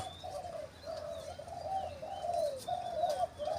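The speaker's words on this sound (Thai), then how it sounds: "ตัวนั้นเป็นนกเสียงใหญ่ครับ" A dove with a deep, loud voice coos in a repeated series of low, rounded calls, close by, with faint chirps from other birds in the background.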